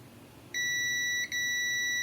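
A multimeter in continuity mode on a circuit board with a short gives a steady, high-pitched electronic beep that starts abruptly and holds for about a second and a half, broken by one tiny dropout, clear and close.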